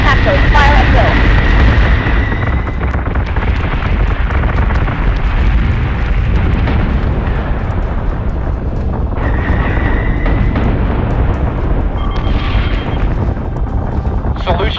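Warship batteries fire continuously in the space combat game Battlestar Galactica Deadlock, a loud, dense rumble of explosions and artillery that runs the whole time, with brief higher-pitched tones cutting through and voices in the mix.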